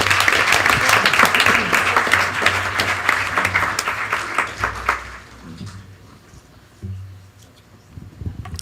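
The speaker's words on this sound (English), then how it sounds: "Please give them a round of applause." Audience applauding at a school board of education meeting: steady, dense clapping for about five seconds, then tapering off into scattered claps and room noise.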